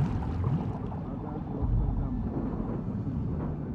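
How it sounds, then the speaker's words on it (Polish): Boat motor running in The Last of Us Part II, a low rumbling drone with gurgling water and wind, steady and fairly close for a few seconds with no talking. "Udało mi się włączyć silnik."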